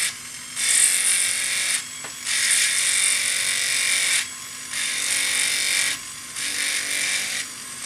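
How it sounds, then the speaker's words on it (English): A round burr on a rotary tool grinds a metal ring bezel held in the fingers. It comes as a loud, close, high whine in four long bursts separated by short pauses, and nobody speaks. "hold this nice and snug in my fingers and use the round burr"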